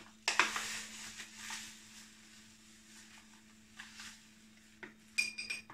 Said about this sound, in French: 2 cuillères à soupe de cassonade dans chaque verre.